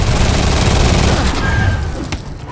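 Rapid bursts of gunfire erupt in Marvel's Spider-Man during the Heist DLC, a loud dense fusillade that thins out toward the end.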